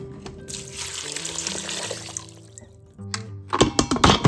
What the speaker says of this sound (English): Put 2 cups of water in there.